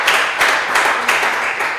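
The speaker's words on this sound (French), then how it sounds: "Alors, merci, on peut l'applaudir." An audience at a grand final of a game contest in Lubumbashi breaks into applause for the winner. The clapping is brief and scattered, with a few stronger bursts, and carries a roomy sound.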